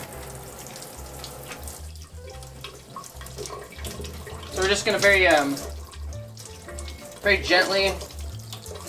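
Cold tap water runs steadily over a piece of sauce-marinated unagi eel in a restaurant kitchen sink, rising to louder splashing bursts as the fish is rinsed, while someone speaks over it.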